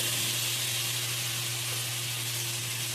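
Steady sizzling hiss of mushrooms sautéing in a pan for risotto, continuous and fairly close, with a low electrical hum underneath and no voices.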